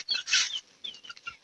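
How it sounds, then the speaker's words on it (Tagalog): Chickens cluck and chirp in short, bright bursts close by in the mountains of Bukidnon, with brief pauses between calls and no talking. "May mga manok po dito."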